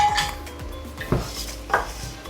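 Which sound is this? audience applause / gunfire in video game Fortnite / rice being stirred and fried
rice being stirred and fried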